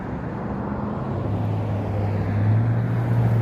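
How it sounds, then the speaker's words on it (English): Steady road traffic rumble with a low drone building and swelling toward the end, like a vehicle passing close by, continuous and fairly loud with wind on the microphone. "You can probably hear there's a good amount of traffic here"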